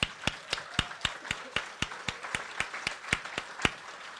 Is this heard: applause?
yes